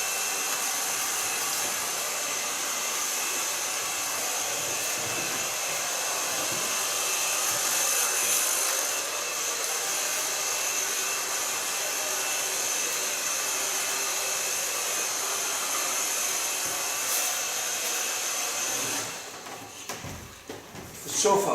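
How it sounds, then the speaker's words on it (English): Hair dryer blowing steadily on hair during a salon colour session, a continuous loud whooshing drone with a motor whine that runs unbroken for about nineteen seconds, then cuts off abruptly at the end. "So far blow drying."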